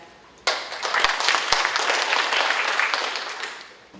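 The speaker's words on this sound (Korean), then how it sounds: "여러분 뜨거운 박수로 맞이해 주시기 바랍니다." Audience applause at a National Assembly forum on the Alddreu–Songaksan peace park, bursting in abruptly after a brief quiet, then a full, close round of clapping that holds steady before tapering off at the end.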